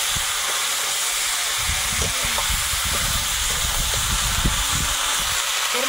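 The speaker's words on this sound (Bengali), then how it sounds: "কাঁকড়াটা ভাজা হয়ে গেছে, সব সবজিগুলো এখন দিলাম।" Vegetables added to a pan of fried crab sizzle with a loud, steady hiss, while irregular stirring knocks and clatters come through close underneath.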